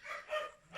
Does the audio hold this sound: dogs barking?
yes